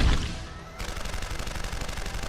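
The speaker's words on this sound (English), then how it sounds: "Why does the turret fire over here?" An automated turret firing in Deus Ex: Human Revolution, a strong initial blast followed by a rapid, steady stream of mechanical gunshots at close range.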